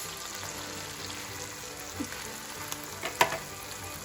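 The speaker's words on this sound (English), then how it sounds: "Okay, our black-eyed peas are still sauteing." Black-eyed peas sautéing in very hot bacon grease on medium-low heat, a steady crackling sizzle with a few small pops and one sharper clink near the end.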